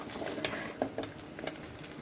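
Cooled rice stirred into sautéed onions in a pan for chicken egg fried rice, heard as a faint, soft sizzle with a few light scraping strokes over two seconds.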